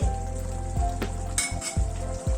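A paneer curry with a fried spice mix sizzles steadily in a pan on a gas flame while it is stirred, with a few brief scraping strokes breaking through the continuous close frying hiss.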